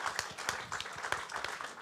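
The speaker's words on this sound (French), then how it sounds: "Ah bah, applaudissez, vous pouvez." An audience at a literary event claps in a short burst, with dense, sharp, irregular hand claps close by and no talking over them.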